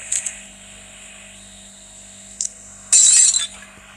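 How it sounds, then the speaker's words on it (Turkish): Glass and dishes shattering as a cat knocks plates and glasses off in a video game: a couple of short clinks, then a loud, bright crash of breaking glass near the end, over a steady low background hum with no talking. "nasıl kıram tabaklarını bardaklarını gözümün önünde."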